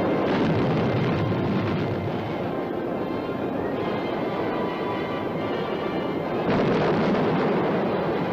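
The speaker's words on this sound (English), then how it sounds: "Both missile and warhead burned on the launching pad." Thor missile fire on a launching pad after a sticking fuel valve, a continuous loud roaring rumble that holds steady for several seconds and swells again near the end.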